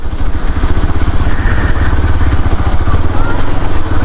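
Motorcycle crosses a shallow village stream, its engine putting out a close, loud, chugging low-pitched throb that runs steadily throughout, with faint clatter and water noise mixed in.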